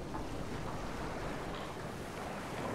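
Ocean waves surge in the submarine game Silent Hunter 3 (GWX) as a U-boat sits at the surface, a steady, close, full roar of surf mixed with wind noise that runs unbroken throughout, with no voices.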